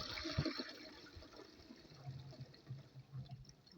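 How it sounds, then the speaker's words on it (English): A newly plumbed-in toilet flushes, giving a rushing gurgle of water that eases into a softer trickle and refill, fairly faint and unaccompanied by speech. "Let's see if we can flush it then, and see what happens when we flush it."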